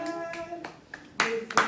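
A few sharp hand claps, spaced irregularly near the end, following a sustained sung tone in a home setting.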